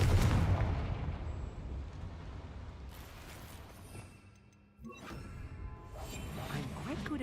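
Spell blasts from the Confringo fire spell in Hogwarts Legacy explode in booming, crashing bursts, one heavy at the start and more near three and five seconds, with rumbling game effects and whooshes between them.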